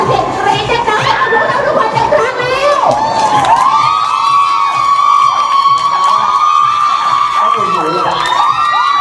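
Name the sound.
crowd screaming and cheering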